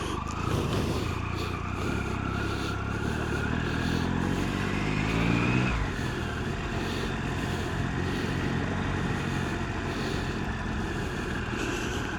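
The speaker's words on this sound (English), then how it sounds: "Okay, heading out now on a bike ride." An adventure motorcycle rides along a street in Pennsylvania on an evening, engine roaring loud and close as it revs up through the gears, the pitch climbing, then dropping at a shift and settling into a steady drone with wind rush.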